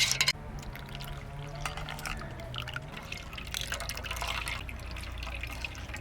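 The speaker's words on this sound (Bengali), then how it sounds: "নির্যাসটা যেহেতু ঘন তার জন্যে একটু সামান্য জল মিশিয়ে দিচ্ছি" Water poured and trickling into thick blended raw green mango pulp for a sherbet. There is a splashing, liquid gurgle with some drips, close and soft, running steadily with no talk.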